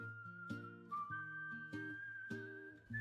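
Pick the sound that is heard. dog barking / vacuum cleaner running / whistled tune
whistled tune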